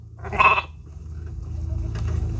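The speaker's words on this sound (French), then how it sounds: "Amenez le mouton! Vite, le mouton!" A sheep bleats once, loud and close, in a short wavering call, followed by a low steady background rumble.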